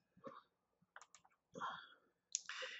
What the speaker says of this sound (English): I'm clicking on the US Census Bureau because that's where it's housed.